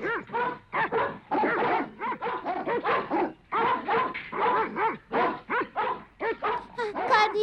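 Several dogs whimper, yip and bark in close, rapid, uneven bursts, with whiny rising cries between sharper barks and short pauses.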